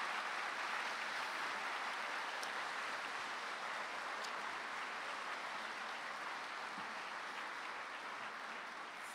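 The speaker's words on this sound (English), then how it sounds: "Could I ask you all to give a round of applause to all of those?" Audience at a university graduation ceremony applauding live musicians, a steady, even wash of many hands clapping, fairly distant and soft, sustained without a break.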